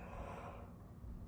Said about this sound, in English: I'm about to yawn.